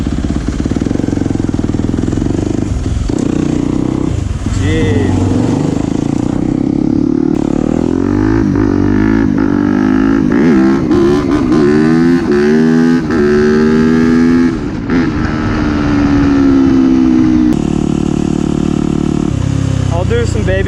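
A Yamaha YZ250F dirt bike with an unpacked, very loud silencer runs nearby, its engine revving up and down continuously with rising and falling pitch, while a person briefly speaks over it.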